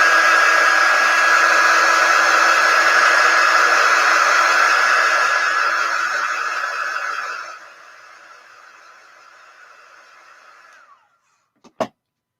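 A hair dryer blows steadily and loudly while drying paint on an upcycled bulletin board turned chalk-painted photo display sign, then cuts to a quieter hum and switches off, followed by a couple of sharp clicks.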